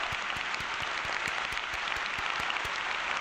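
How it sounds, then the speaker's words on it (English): A round of applause: dense, steady clapping with a regular pulsing beat that runs throughout at an even, fairly loud level, without talk. "I think I deserve a round of applause for that."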